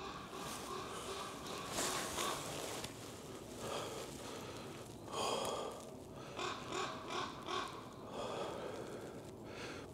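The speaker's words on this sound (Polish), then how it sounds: "Kruki słychać." Ravens in a cemetery caw repeatedly from some distance, their harsh calls faint over a quiet outdoor background.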